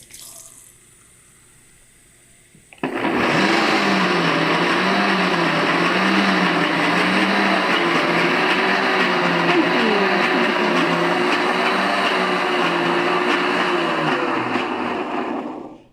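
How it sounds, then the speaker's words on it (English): A fancy electric blender whirs at full power for a long stretch after a short quiet start, loud and steady with a churning, slightly wavering motor tone as it mixes a thick drink with water added. "Let me see if I can work Sydney's fancy blender here"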